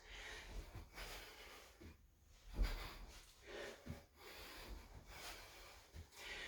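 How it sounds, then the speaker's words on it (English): Rhythmic nasal breaths during an at-home workout, a series of short sniffing inhales and exhales close to the mic, with no speech. "As much as possible, I'm gonna try and breathe through my nose."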